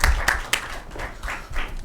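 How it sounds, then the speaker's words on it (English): Audience applause greeting speaker Hassan Akmal as he is welcomed onto a stage at a career talk, a short burst of clapping with a few sharper claps standing out before it fades. "let's give a nice round of applause for Hassan"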